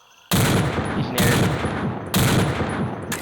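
Heavy gunfire in Combat Arms hard core mode, rounds punched through a wall in three loud sustained bursts, each opening with a sharp crack and rolling on with dense rapid shots, close and dominating, with faint voices beneath.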